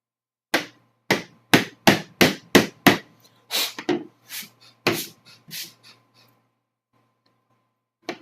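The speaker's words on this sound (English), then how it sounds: "Just gonna take this tool and scrape out the rest." A hand tool scrapes material out of a piece during custom tech work: about a dozen sharp, close strokes, rapid and evenly spaced at first, then slower and softer before stopping, over a faint steady hum.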